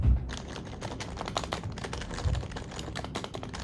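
Typing on a computer keyboard picked up by a webcam's built-in microphone, a steady, fairly quiet stream of rapid clicking keystrokes with a few heavier thumps, heard alone.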